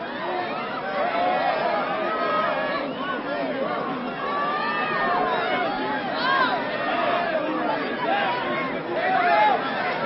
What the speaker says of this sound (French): Les gens autour de lui continuent de se bousculer pour l'apercevoir